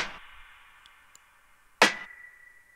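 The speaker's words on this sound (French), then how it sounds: "Pour que, à l'inverse, on ait une snare avec beaucoup de reverb et une snare avec un petit ding." A programmed beat made in FL Studio: a snare with a long reverb tail opens, a tiny metallic ding of percussion follows, and then a second sharp snare hit rings out with a sustained tone.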